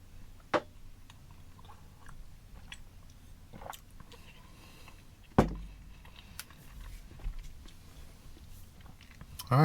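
Chewing on Italian breadsticks from an MRE beef ravioli meal, with soft, steady crunching and a few sharper bites up close over a quiet background.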